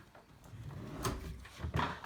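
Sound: drawer being opened

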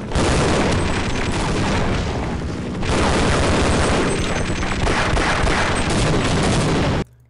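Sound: missile explosions in video game Half-Life

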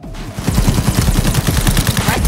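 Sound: Video Maker gun firing in video game Cyberpunk 2077

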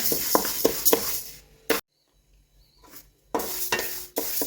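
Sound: urad dal and chana dal dry-roasting and stirring in a pan

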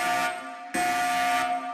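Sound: house alarm triggered by pulling a red bathroom rope, animation effect

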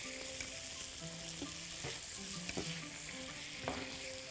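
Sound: chicken shawarma with garlic being tossed in a frying pan

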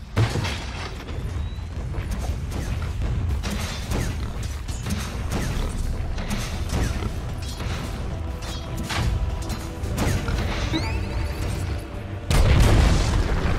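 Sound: Dota 2 tower under attack, explosions, video game

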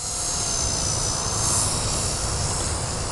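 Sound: V120D02S-Pro RC helicopter flying 3D rolls

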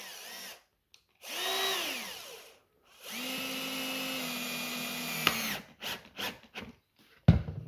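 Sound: power drill driving a screw into wood

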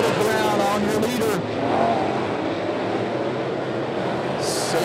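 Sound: sportsman race cars racing on a track

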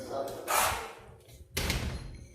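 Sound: door being shut

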